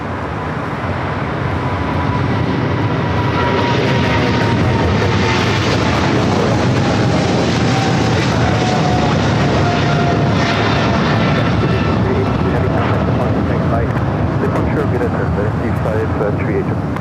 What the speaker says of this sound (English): What an ultra smooth takeoff with this camera.